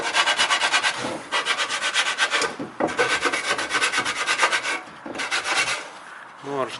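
Debris is scraped off the automatic transmission cleaner magnet from a Toyota Corolla in repeated close, rasping strokes, a harsh scratching back and forth with brief pauses between passes.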